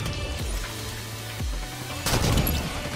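Rocket launcher blasts and explosions in a Halo 5 multiplayer firefight: a few deep booming thumps spaced across the clip, then a louder crashing burst near the end, with no talk over it.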